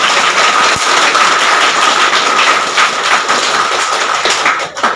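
A crowd clapping hands together, a dense, loud, continuous patter of many overlapping claps that holds steady and then eases slightly at the end, with no talking.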